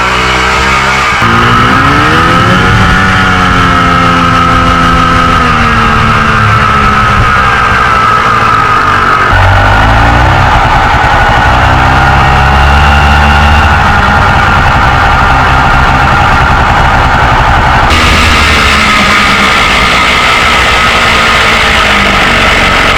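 A Yamaha Jog scooter engine, freshly repaired carburettor and airbox removed, runs loud and close throughout, its two-stroke drone rising and falling with throttle changes.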